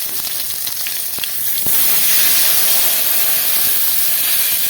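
Water is poured into a hot pan of fried tomato for a Bengali fish curry, setting off a loud, steady hiss of sizzling and steam that swells about a third of the way in and holds to the end, with no talk.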